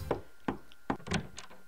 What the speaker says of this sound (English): I hear a knock, and then the door opens.